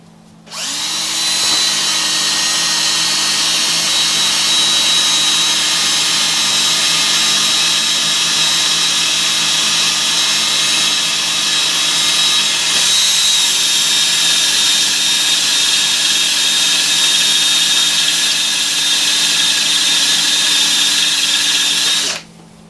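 A worn, blunt drill bit bores a pilot hole into a Bomford hedge trimmer, producing a loud, steady, close-up whine that runs continuously for about twenty seconds with a brief dip partway through and no talking.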